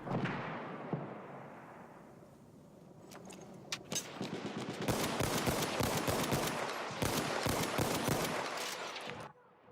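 Gunfire in an Incursions match on Xbox One: a distant shot, then a heavy impact, then rapid automatic bursts of crackling rifle fire for several seconds, loud and close, before cutting off abruptly.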